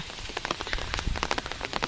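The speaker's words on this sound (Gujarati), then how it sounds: "અહીં આવ્યા એટલે વરસાદ ખૂબ જોરમાં સ્ટાર્ટ થઈ ગયો" Heavy rain pours down close by, dense drops pattering hard on surfaces in a steady, noisy wash with scattered sharper hits.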